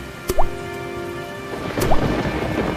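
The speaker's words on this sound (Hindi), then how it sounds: "बारिश ऐसी हो रही थी मानो आसमान फट पड़ा हो।" Heavy rain pours steadily in a cartoon storm, with two sharp thunder cracks rumbling out over the constant downpour and dripping.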